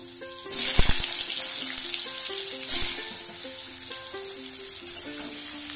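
Potatoes and turmeric frying in a hot pan give a steady close sizzle, with clattering stirs and two louder scrapes against the pan. Background music plays underneath.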